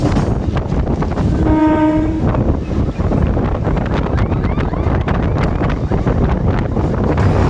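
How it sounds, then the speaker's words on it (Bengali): A local passenger train rolls into Madanpur station with a steady, loud rumble and heavy wind buffeting, and a brief horn-like tone sounds about two seconds in. "আমাদের ট্রেন পৌঁছালো মদনপুর স্টেশনে।"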